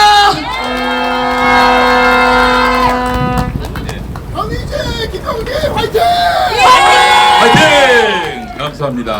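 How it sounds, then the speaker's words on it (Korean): A crowd at an outdoor street candlelight rally near Han Dong-hoon's home, calling for Yoon Suk-yeol's resignation, cheers and calls out in a loud, swelling roar of voices. Sustained tones sound at the start, and the noise peaks again near the end. "두 분 다시 한번 큰 박수 부탁드립니다"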